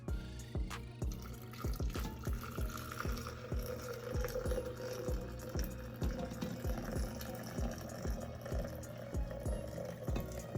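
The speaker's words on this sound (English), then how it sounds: "Water is boiled. I'm gonna pour it in the French press." Freshly boiled water is poured into a French press, a quiet, steady trickle and splash punctuated by a run of repeated soft knocks and gurgles, with no talking.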